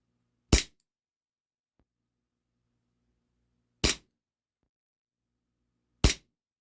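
An HFC DarkHawk gas blowback airsoft pistol loaded with green gas and 0.20 g BBs fires three sharp, loud, close cracks, spaced a few seconds apart with near silence between.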